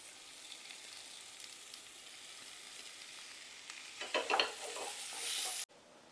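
Tomatoes go into masala frying in a home kitchen pan, with a steady low sizzle and stirring that rises to a louder, scraping burst before cutting off abruptly.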